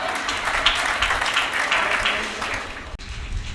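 Audience applause at a Hindi comic poetry recital, a dense, sustained crowd clapping at moderate distance that fades near the end.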